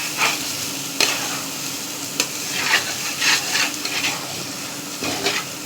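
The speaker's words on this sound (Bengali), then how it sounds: "ঘি দিলে ভাজাটা সুন্দর হয়," Rice fries in ghee for basanti pulao, giving a steady close sizzle. Repeated scraping stirs and a few sharp knocks of a utensil against the pot sound over it, with no talking.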